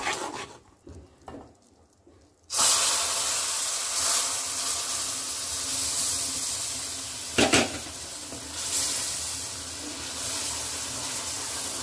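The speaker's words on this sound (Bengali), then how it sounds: "তো আমি এখন এর মধ্যে দুধের মিশ্রণটা দিয়ে দেবো। দুধ আর চিনি।" Milk and sugar poured into moong dal already fried in a pan for halwa set off a loud, steady sizzle and steamy hiss after a quiet start, with a brief clatter partway through; no one speaks.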